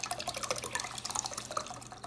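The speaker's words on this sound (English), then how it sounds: "push this in slightly and then just pour it out that way" Liquid pours from a cooking pot in a turkey and rice dish, with an uneven splashing trickle and drips that stay fairly faint and close throughout, with no voices.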